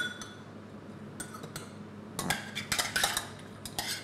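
Finely diced courgette goes into a mixing bowl with close clinks and scrapes of utensils against the dish, a few light taps first and then a busier cluster of clatter, with no talk.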